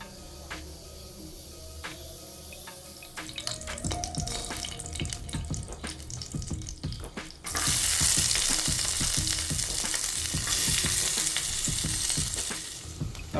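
Shallots fry in a clay pot for a beef curry, hissing and sizzling while a spoon scrapes and stirs in irregular knocks, the sizzle surging louder halfway through.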